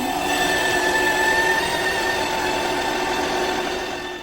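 A Ninja CREAMi Deluxe ice cream maker runs with a loud, steady mechanical whirring and grinding drone with a high tonal whine throughout, fading slightly at the end.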